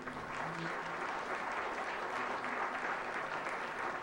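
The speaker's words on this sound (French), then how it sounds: "Applaudissons Nicolas Gagné." Sustained audience applause at a conference awards ceremony honoring a student laureate, dense and steady for the whole stretch, with a faint voice briefly audible at the start.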